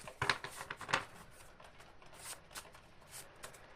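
Handmade oracle cards being shuffled by hand, with quick close papery riffles and soft flicks, a few sharper snaps near the start, then lighter steady rustling, with no voices.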